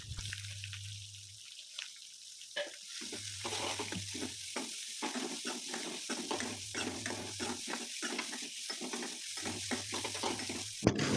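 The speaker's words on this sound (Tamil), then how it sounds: "அடுத்ததாக இதில் துருவி வச்சுருக்க கேரட்டையும் ஆட் பண்ணிக்கிறேன்." Grated carrot stir-fries in a pan with mustard seeds and curry leaves, giving a soft steady sizzle broken by frequent scraping stirs, quiet and close, with no talking.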